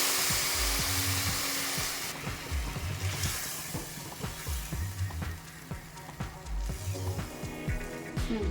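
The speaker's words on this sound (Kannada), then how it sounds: "ಆವಾಗಲೇ ಕಾಯಿಸ್ಕೊಂಡಿರೋ ನೀರನ್ನ ಇದಕ್ಕೆ ಆ್ಯಡ್ ಮಾಡಬೇಕು." Hot water is poured into a pan of roasted vermicelli for shavige payasa, bursting into a loud sizzle that settles into a steady crackle, broken by repeated clinks and scrapes of stirring.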